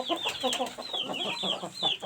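Hen clucking close by in a flock with a rooster and chicks, short repeated clucks and squawks overlapping in an uneven, busy rhythm with no talk.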